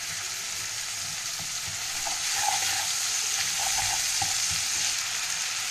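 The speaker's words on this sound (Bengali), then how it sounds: "পেঁয়াজ আর টমেটোটা ভাজতে ভাজতে দিয়ে দেবো আমি আদা বাটা।" Onion and tomato frying with ginger paste, a steady close sizzle with soft bubbling and occasional light stirring, no talk.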